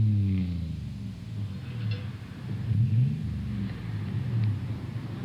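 An American truck at a car show rumbles with a deep, throaty engine note, swelling through a couple of throttle blips before easing back, close and loud with no talk over it.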